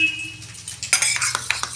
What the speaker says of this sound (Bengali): এটাকে আমি ভালো করে ফেটে নেব।